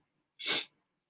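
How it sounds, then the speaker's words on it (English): A single short, forceful sneeze, close and loud, with silence before and after. "Because I'm constantly sneezing and sniffling and all of that crap."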